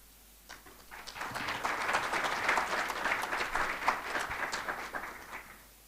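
A summit audience gives a round of clapping after a speaker's introduction; the applause swells in after a quiet start, stays steady and moderately loud, then tapers off near the end.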